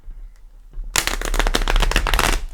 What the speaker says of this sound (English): So we'll give it one good shuffle here.